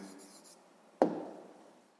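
A pen writes out an answer on paper during a sixth-grade math lesson: faint scratchy strokes, then a single sharp tap near the middle that fades quickly. Close and quiet, with no talking.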